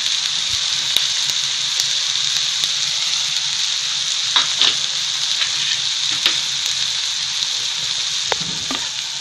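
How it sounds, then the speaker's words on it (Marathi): Soaked dal lentils fry in hot oil over a medium-low flame, a loud, constant close sizzle with scattered sharp crackles and pops throughout. "तेलात आता परतून घेऊया 2-3 मिनिटाची।"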